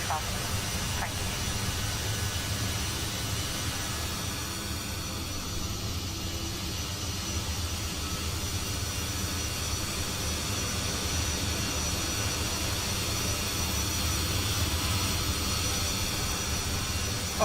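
Iberia CRJ1000 jet airliner on its takeoff roll and climb out of Madrid, a steady broad cabin roar of engines and airflow with a low rumble, continuous and fairly even throughout, heard from inside the cabin with no talking.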